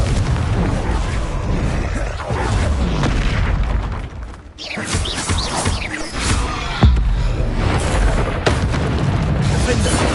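Spell explosions boom one after another in a Harry Potter–style video game, thick continuous blasts and bursts layered with game sound and a voice calling out spell names.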